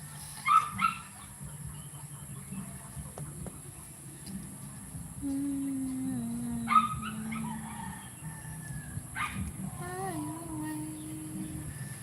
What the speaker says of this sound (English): Hey, this is the dog from your neighbor.